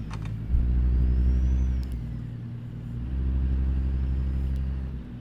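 A heavy Kenworth W900 truck engine in American Truck Simulator, using modded engine sounds, rumbles and revs, dipping briefly before climbing again, with a faint hiss of air brakes partway through.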